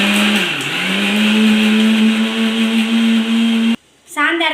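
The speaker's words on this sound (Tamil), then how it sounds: "அதனால தாங்க நாங்கள் மிக்சிலே அரைக்கிறோம்" An electric mixer grinder grinding spice paste for a curry gives a loud, steady motor whine that drops briefly in pitch, then cuts off abruptly, followed by a short moment of voice.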